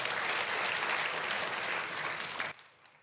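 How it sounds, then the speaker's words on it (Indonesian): Thunderous applause from a church congregation, a dense wall of clapping that stays loud and steady before cutting off abruptly near the end. "Tepuk tangan yang dahsyat."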